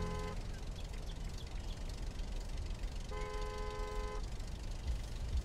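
A car horn honks twice in the Taxi Life driving game, a short beep followed by a longer blast, over a steady background rumble of traffic.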